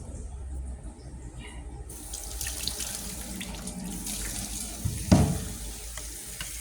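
Tap water runs into a sink as freshly harvested sweet potato tops are rinsed under it, a steady close splashing stream with a brief louder splash near the end.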